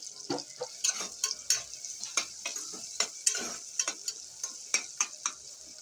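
Onions fry in a pan for mutton curry, a soft sizzle broken by quick, irregular clicks and scrapes of a spoon stirring against the metal, close and steady throughout.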